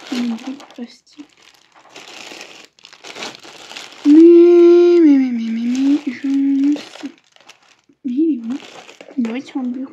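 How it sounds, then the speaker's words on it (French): Plastic crinkles and rustles at a desk in short bursts, close and fairly loud, while someone talks over much of it. "Les bruits de plastique."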